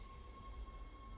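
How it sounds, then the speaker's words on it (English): Rail tram in the sci-fi horror game Dead Space pulling into the flight deck station, heard as a steady, low rumbling drone with a faint sustained hum, continuous and fairly quiet throughout. "Tram arriving at flight deck station."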